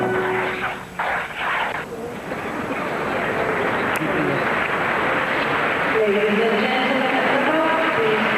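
A figure skating arena crowd at the 2004 World Championships men's short program gives a steady, sympathetic wash of applause for a skater after a fall, rising gradually, with a commentator talking over it.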